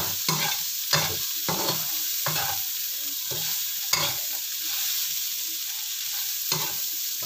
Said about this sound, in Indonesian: Ini diaduk-aduk nih untuk menaikkan bumbu